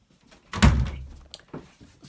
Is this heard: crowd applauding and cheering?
no